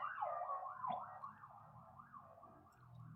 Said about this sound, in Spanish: Perdón, está pasando una ambulancia.